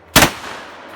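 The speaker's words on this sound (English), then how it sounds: "This is a can cannon from X Products LLC." An X Products can cannon fires a can with one sharp, loud bang that cuts off quickly into a short, fading ring.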